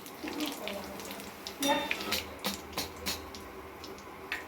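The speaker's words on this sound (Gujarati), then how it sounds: "હવે આપણે આને તરી લઈશું ગરમ થઈ ગયું છે" Bread pieces fry in hot oil with a soft, continuous crackling hiss and scattered small pops, heard close at low volume.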